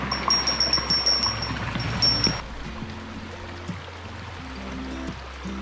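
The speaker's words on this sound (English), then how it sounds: "This is a very cloudy, volcanic little creek here." A cloudy volcanic creek near Goshogake Hot Springs on Mt. Akita Yakeyama, with steady close water flow that runs on without a break while light tinkling and clinking rise above it in the opening seconds.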